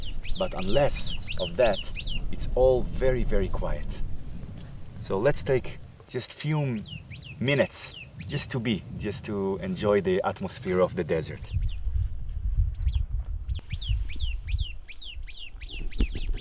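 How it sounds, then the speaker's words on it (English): Small birds chirp and trill repeatedly under a tree in the quiet Negev desert in southern Israel, their calls sounding close and bright between stretches of someone talking, then continuing alone over a low breezy hush. "You can hear the birds right now under the tree"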